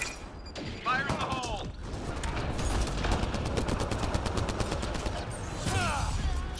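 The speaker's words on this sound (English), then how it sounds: "Enemy fire." Enemy gunfire in the video game Mass Effect Andromeda multiplayer, rapid bursts of automatic shots rattling continuously, mixed with mechanical weapon sounds and a couple of rising whooshing effects, with speech underneath.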